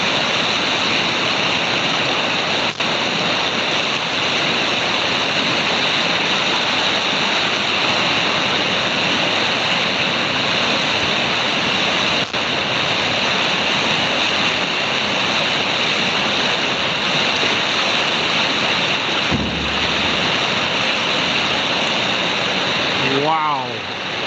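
Flooding Umatilla River rushing hard, a loud continuous roar of churning water filling the whole stretch without letup, steady and close throughout.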